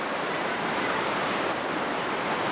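Rapids and waves on the Youghiogheny River rush in a dense, steady roar of churning water, loud and unbroken, with no voices.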